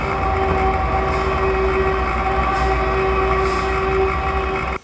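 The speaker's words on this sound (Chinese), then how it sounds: "马上就要变换车道不成，还暴怒长按喇叭" A gravel truck on a busy highway lays on its horn in one long, loud, unbroken blare lasting nearly five seconds before cutting off abruptly, with traffic rumbling underneath.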